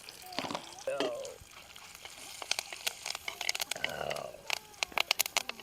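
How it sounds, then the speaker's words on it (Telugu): Hot oil crackles and sputters as dried red chillies, tempering seeds and curry leaves go into the pan for a village-style bottle gourd chutney, with sharp irregular pops growing denser toward the end. "నూనె బాగా వేడైనాక ఒక రెండు వట్టి మిర్చి వేసుకోవాలి ఇగో తాలింపు గింజలు కలిపి పెట్టుకుని"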